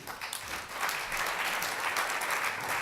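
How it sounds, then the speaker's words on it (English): Conference audience applause at a gaming and gambling regulation session in Oslo, a fairly faint but steady round of many hands clapping that swells slightly and carries on for about three seconds. "So please give them a hand of applause."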